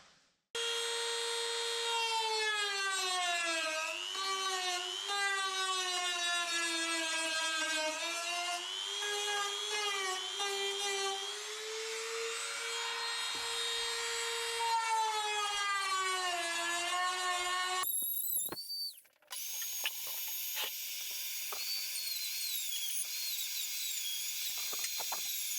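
A grinder runs continuously, opening up fiberglass for repair, its high whine rising and falling as load changes, then cutting out abruptly before a brief, brighter different tool noise follows; loud and close, no speech.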